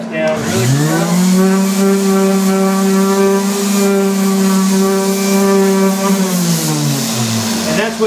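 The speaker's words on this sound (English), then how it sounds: "And that's with the 60 grit sandpaper, so we're ripping all the scratches off by scratching it up more" A power sander with 60 grit sandpaper runs steadily on a solid surface countertop under repair, a loud close droning whine that spins up, holds evenly for several seconds and winds down.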